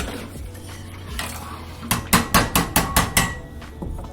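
A metal spoon clinks repeatedly against a pot of sausage gravy, about eight quick, evenly spaced knocks after a quieter stretch of faint kitchen background.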